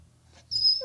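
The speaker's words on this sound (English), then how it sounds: "Dog." A dog lets out one short, high whimper, close and fairly loud, after a moment of near silence.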